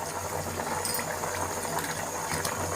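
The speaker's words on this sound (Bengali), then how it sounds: "সবজিগুলো মোটামুটি সিদ্ধ হয়ে গেছে" Winter vegetables boil in a pot, a steady bubbling and gurgling simmer heard close up and without speech.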